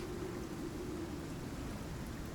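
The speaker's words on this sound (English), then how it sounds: "Hoping that the rain's going to go away at some point" Steady, dense rain in a survival video game hisses continuously at a constant moderate level, with no other sounds standing out.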